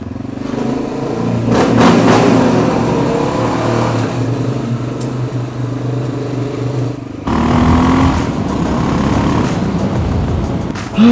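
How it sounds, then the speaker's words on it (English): Vehicle engine revved hard, a loud sustained roar with rising and falling pitch that cuts off briefly, then resumes with rapid clattering pulses, close up and alone without talk. "let's go in here and rev up this engine."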